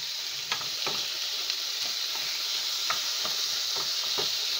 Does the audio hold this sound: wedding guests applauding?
no